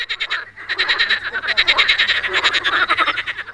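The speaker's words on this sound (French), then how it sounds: "des grenouilles bruyantes qui les empêchent de dormir. Elles coassent très fort" Loud, noisy frogs croak in a dense, rapid chorus, pulsing rhythmically and close up without pause, with no voices over them.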